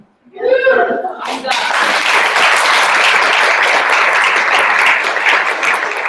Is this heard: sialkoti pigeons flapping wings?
no